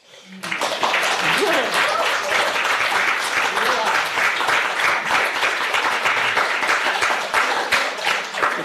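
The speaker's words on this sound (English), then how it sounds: "You can't clap at the end of every poem" An audience at a Western Australian arts leadership event claps after a spoken poem, a dense, sustained burst of applause that starts abruptly and holds steady throughout, with faint voices mixed into the crowd.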